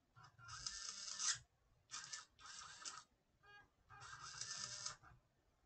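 A small servo motor on a hobby electronics board whirs as buttons are pressed, in three separate bursts of buzzy mechanical whine with short quiet gaps between them, fairly close and with no voices.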